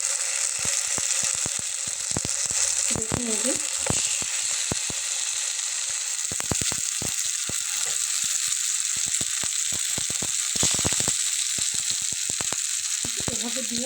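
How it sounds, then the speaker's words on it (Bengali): Stuffed pointed gourds sizzle steadily in hot oil in a wok. The frying is close and continuous throughout, with a few brief stirring or placing noises and a short spoken remark. "তো এখন আমি এর ভেতরে পটলগুলো দিয়ে নেব।"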